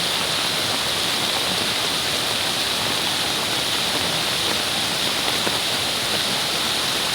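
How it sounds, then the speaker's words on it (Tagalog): Rain-swollen creek in flood, a steady, loud, broadband rush of fast water that holds constant without pause, close by and with no voices over it. "Kung gaano kalakas ang tubig."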